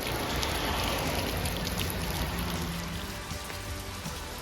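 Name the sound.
rain falling while cycling in Japan's mountains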